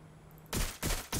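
Three loud bursts of gunfire in Watch Dogs Legion, fired at a box in a police station, arriving in rapid succession after a brief quiet hum.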